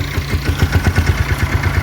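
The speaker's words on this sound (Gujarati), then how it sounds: "ત્યાં કાનાભાઈ ટ્રેક્ટર લઈને આવી ગયા" A farm tractor's engine chugging close by with a steady, throbbing low rumble, pulsing evenly at about eight beats a second as it pulls up in a groundnut field, with no voices.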